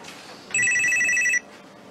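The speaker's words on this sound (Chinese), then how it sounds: "不好意思，我接个电话。" A phone rings with a single loud burst of bright electronic trilling, lasting under a second over a quiet room background.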